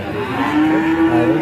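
A Pegon breed bull calf in a livestock pen gives one loud, close, sustained moo.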